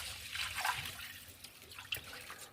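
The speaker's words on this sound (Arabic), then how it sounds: "احط بقى كده الميه" Water poured into a pot of basmati rice with salt while cooking: a soft, quiet splashing and trickling stream that swells and fades, with a few small drips, no talking.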